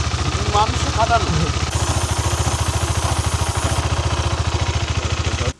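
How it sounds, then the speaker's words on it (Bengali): A motorcycle engine, started while tilted on its side, idles close by with a rapid, even putter of low thumps, and a voice is briefly heard near the start. "আমি বাইকটাকে জাস্ট কাত করলাম, কাত করে এখানে স্টার্ট দিলাম।"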